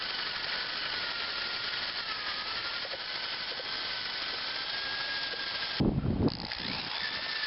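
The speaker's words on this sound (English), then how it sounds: "I've got a 7/16 inch bit in this 3/8 inch drill." A 3/8 inch electric drill runs a 7/16 inch bit, enlarging a hole while working out the middle rivet of a lower control arm ball joint on a GM Grand Am, Skylark or Calais; a steady close whine, then a brief heavier chatter near the end.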